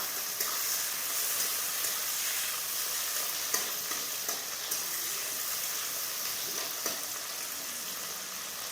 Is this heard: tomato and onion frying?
yes